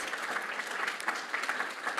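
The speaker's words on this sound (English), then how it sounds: "could you please join me in giving a massive round of applause to our state and territory organisations" Brief, steady applause from an audience at a Landcare conference, honouring state and territory organisations; even clapping from a crowd, fairly quiet and continuous.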